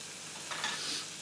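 Cheeseburger patties fry in a pan over moderate heat, giving a soft, brief hiss and sizzle that swells slightly midway, faint and without any talking.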